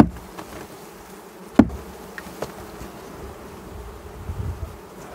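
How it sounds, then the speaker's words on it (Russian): Honey bees being shaken from a frame into a hive while two bee colonies are combined, a steady close buzzing hum with a sharp knock midway and a few lighter taps. "Пчелок немного осталось, надо их вытряхнуть сейчас сюда."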